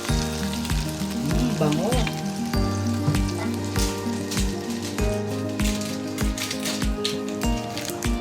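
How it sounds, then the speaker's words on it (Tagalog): Crabs sizzle steadily in a hot pan as Sprite is poured over them, a loud continuous frying hiss with crackles, while a short spoken word and faint background music sit underneath. "Lalagay na natin ang ating Sprite."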